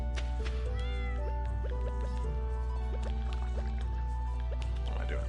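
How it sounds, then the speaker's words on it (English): A cat meows repeatedly in the farming game Stardew Valley, short tonal cries over a constant game soundtrack with steady background sound. "I'll go say hi to my cat now."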